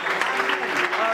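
A church youth conference crowd applauds and cheers together, a dense steady wash of clapping with voices mixed in, brief and loud.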